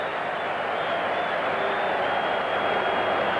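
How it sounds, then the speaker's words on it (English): A rugby crowd at a France versus British Lions match roaring and applauding after a Lions try, a steady, dense wall of cheering with a commentator speaking over it. "the crowd really rise in celebration of that Lions try"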